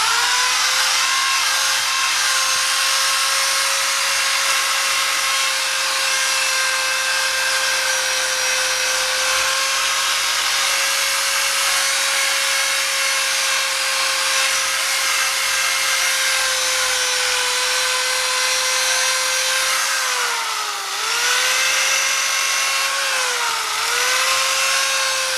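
A rotary cutter whines steadily and loudly while deburring the aluminum muffler of a Suzuki GS1100E motorcycle, holding a sustained high-pitched tone with brief dips in speed near the end.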